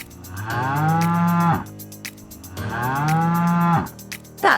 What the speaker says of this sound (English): First, let's meet our friend the cow